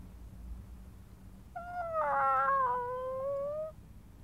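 Cartoon cat in Fireman Sam gives a drawn-out, wavering meow of about two seconds, clear and fairly close over quiet background.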